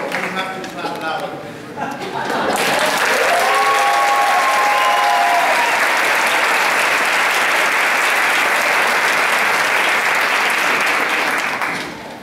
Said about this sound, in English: You don't have to clap loud